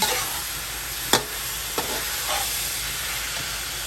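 Chicken and rice with cilantro being mixed in a pot, a continuous sizzling hiss with a couple of sharp scraping stir sounds of a utensil against the pot.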